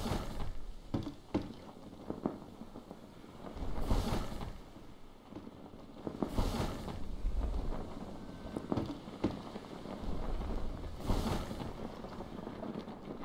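Sails flap in strong wind on a raft in the video game Stranded Deep, with gusty rushing wind, soft fluttering patter and a few louder swells of buffeting, sustained and fairly faint.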